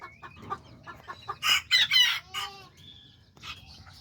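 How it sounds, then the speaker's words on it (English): Small hens clucking and chattering near a little Azteca rooster in a backyard flock of short-legged chickens; several bursts of bright clucks and squawks cluster mid-clip, with quieter calls before and after. "And then I got these little hens that I had put him with."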